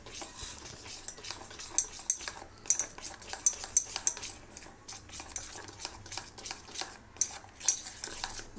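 A spoon beats cake batter mixed with cocoa powder in a bowl, making rapid rhythmic scraping and clinking strokes that repeat steadily and sound close, with no talking.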